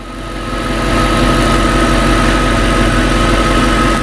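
A 2003 Ford Thunderbird engine runs while its throttle is tested. It settles into a loud, steady hum with a constant low rumble and tonal whine after a brief rise at the start.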